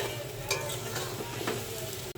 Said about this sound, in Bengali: এখন আস্তে আস্তে নাড়তে থাকবো যাতে নিচ থেকে লেগে না যায়।